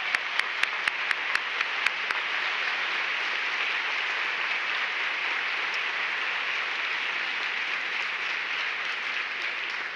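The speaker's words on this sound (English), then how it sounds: "please join me in the first of many rounds of applause to recognize our next Citizen of the Year" Guests at a chamber of commerce Citizen of the Year dinner break into steady, dense applause for the honoree. A few sharp individual claps come first, then the clapping holds evenly and fills the room for the full ten seconds.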